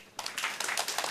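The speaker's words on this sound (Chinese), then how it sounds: "那我们大家用热烈的掌声来欢迎他们。" A small conference audience at COSCUP claps to welcome the speakers, a short patter of hand claps that starts abruptly after a moment of near silence and stays fairly faint.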